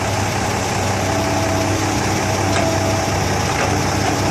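A Kobelco 115SR excavator's diesel engine idles at a worksite in a steady, heavy drone that stays even and continuous, with faint clanks now and then.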